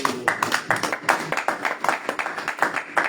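A church congregation at a Sunday worship service applauds, with irregular bursts of clapping from several people that rise and fall in quick pulses, fairly close and lively.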